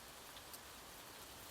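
Gentle rain falls steadily, a soft, even hiss of drops on surfaces with no voices or other sounds.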